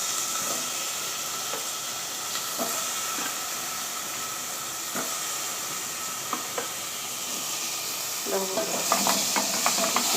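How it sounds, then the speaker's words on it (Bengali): Cut potatoes with onion, bay leaf and spices frying in a pan for an egg and potato curry, a constant hiss with occasional clicks of stirring that grow busier near the end. "এভাবে ভালো করে আলুটাকে মশলার সঙ্গে কষিয়ে নিতে হবে"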